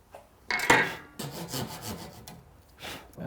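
Hand tool trimming excess wood off a drawer runner close to the shoulder line in cabinet work, heard as a few close, rough rasping and scraping strokes in uneven bursts, with a sharper stroke near the start.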